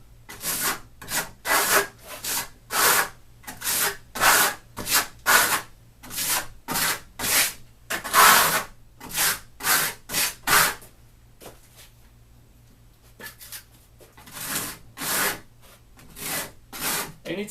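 A trowel scrapes in rhythmic strokes across Marmorino Venetian plaster with heavy aggregate, close gritty rasps coming in steady bursts, then a brief pause before the strokes resume; no talking.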